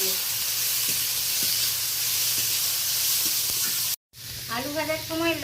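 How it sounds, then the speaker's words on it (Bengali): Tomato and onion frying in a pan with garlic paste, a steady broadband sizzle with faint clicks, briefly cut off, then returning with a voice speaking over it. "ভালো করে 3-4 মিনিট ধরে টমেটো পেঁয়াজকে কষিয়ে নেব"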